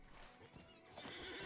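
A horse in the Lord of the Rings Online video game whinnies and clip-clops its hooves in a quick, close burst, fairly faint, with no talk over it.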